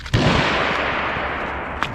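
A pistol fires 45 grain Winchester rounds outdoors, one sharp loud shot near the start with a long booming tail, followed by a fainter crack near the end.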